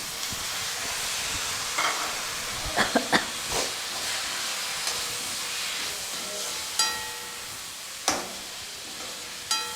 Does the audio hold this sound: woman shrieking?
no